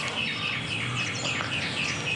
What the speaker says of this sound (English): hearing those beautiful birds